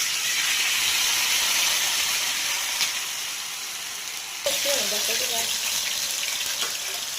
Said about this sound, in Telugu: ఆ పేస్ట్ అంతా కలిపిన తర్వాత ఒక్కొక్కటిగా ఇలా ఫ్రై చేసుకోవాలి